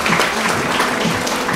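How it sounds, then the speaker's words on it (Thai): An audience at a Thai economic outlook seminar claps in steady, dense applause, many hands together at close range, sustained through the moment with no voices. "ขอเสียงปรบมือค่ะ"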